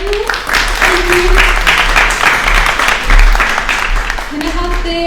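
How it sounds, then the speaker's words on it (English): Audience applause for candidates at a 2023 student election question time event, a steady broadband wash of clapping lasting throughout, with voices speaking over it at the start and again near the end. "Can I have a round of applause for everyone?"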